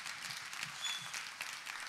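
Applause from a theater audience at a mariachi concert, a continuous moderately loud crackle of many hands clapping, heard at some distance and without voices over it.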